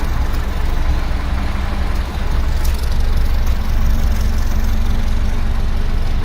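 A 1976 BMW 2002 engine idles close by with a small exhaust leak, giving a steady, loud, low rumble that runs unbroken with no talking.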